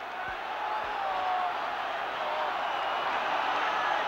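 Molineux crowd at the 1972 UEFA Cup Final first leg between Wolves and Tottenham Hotspur, a distant steady roar of thousands of football fans, uniform and unbroken across the moment.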